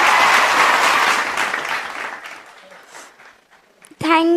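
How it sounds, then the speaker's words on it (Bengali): An audience at a children's dance competition claps loudly together, a dense burst of applause that gradually thins and fades over a few seconds before a voice starts speaking at the end. "একটা জোরে হাততালি।"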